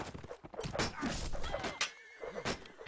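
A horse in a video game whinnies loudly amid clattering battle noise, the neigh rising and falling with a shrill, shaky edge over a dense, busy background.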